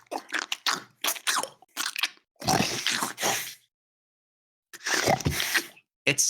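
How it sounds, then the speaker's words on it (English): Wet, crunchy chewing from an unseen creature comes in irregular bursts of squelching bites and slaps, loud and close, separated by a couple of short silent gaps. "it almost sounds like chewing."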